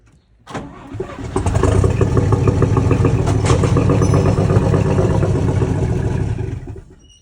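A 1956 Chevy 210 that sat for 25 years cranks briefly, then catches and runs loud and rough for several seconds with popping, before dying away at the end.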